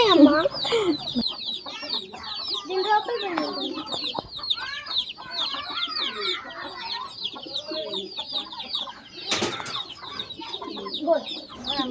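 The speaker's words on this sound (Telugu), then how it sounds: "మీకు ఆ కోళ్ళ చిక్ చిక్ సౌండ్ ఎలా అనిపిస్తుంది" Fighting-breed chickens cluck and chirp continuously in a busy flock, with overlapping calls close by and a brief louder burst near the end.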